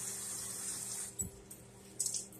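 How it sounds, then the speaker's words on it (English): Water runs from a kitchen tap for hand washing, a steady faint hiss of flow with a couple of brief splashes as hands move under it. "Now, I'm going to wash my hands a little bit."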